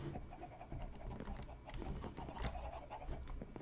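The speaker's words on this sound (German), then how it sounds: "Gackern hört er schon." Chickens clucking inside a small hen house, a steady, busy chorus of overlapping clucks and calls heard from close by with no talk.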